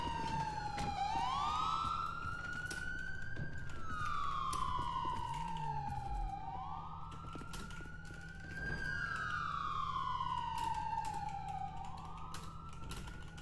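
A police car siren wails through a FiveM GTA V chase, sweeping up and down in long, repeating cycles. It sounds loud and close, with faint engine and traffic noise underneath and no speech.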